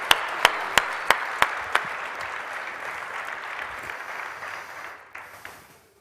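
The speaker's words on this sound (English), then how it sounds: "A round of applause for our Q&A." A room full of audience members applauds at the close of a question-and-answer session at a crypto business event, dense steady clapping with several sharp claps up front, fading gradually toward the end.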